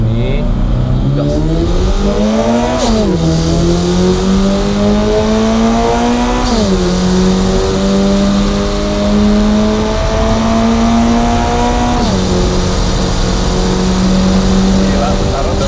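A naturally aspirated Subaru BRZ with automatic transmission, air conditioning switched off, accelerates hard through several gears, its engine note climbing loudly and dropping at each shift, close and continuous.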